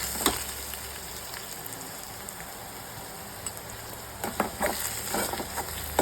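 Bottle gourd sautéing in a pan, a steady close sizzle with soft stirring scrapes and a few brighter crackles toward the end.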